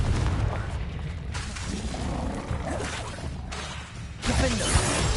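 A Confringo blast spell explodes in Hogwarts Legacy with loud, dense booming bursts amid continuous game combat noise, the strongest blast landing near the end.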